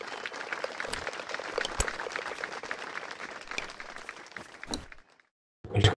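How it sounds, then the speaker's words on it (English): Synthetic crowd applause plays in the Gmod Tower minigolf video game: a continuous patter of clapping that cuts off abruptly, a short silence, then a brief new burst of game sound. "I just got a mediocre applause."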